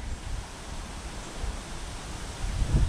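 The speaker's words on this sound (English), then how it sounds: "Oh, the wind feels good." Wind blows steadily outdoors on a day that looks like rain, a soft broadband rush with gusts swelling louder near the end, and no voices over it.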